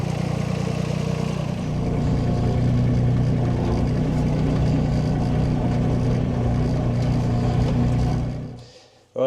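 A new farm tractor's engine runs at a steady, droning idle close by, then cuts out abruptly near the end.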